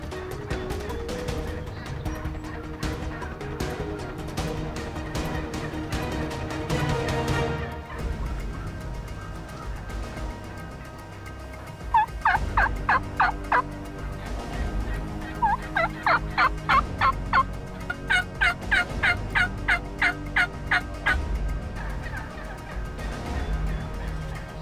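Wild turkey gobblers in timber gobble repeatedly, loud rattling bursts that come in quick clusters, some overlapping, near and clear over a quiet morning woods background.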